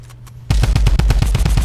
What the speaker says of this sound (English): that's just me shooting